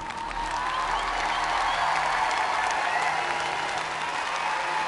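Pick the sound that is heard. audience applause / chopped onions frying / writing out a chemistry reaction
audience applause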